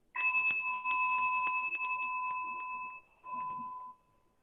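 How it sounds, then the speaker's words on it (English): A meditation bell for a yoga session gives two clear, sustained ringing tones, the second struck shortly after the first fades, with light tapping underneath; close and otherwise quiet. "I'm going to ring my bell to get us started."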